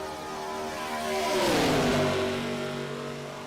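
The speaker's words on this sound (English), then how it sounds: "If you want to know what it sounds like in these virtual machines, most of these guys are kind of crazy. They have their engines blaring." Race car engines in the iRacing video game during an ARCA Series race at Daytona, roaring loud and steady with a rising then falling pitch sweep as a car passes close by, peaking mid-way.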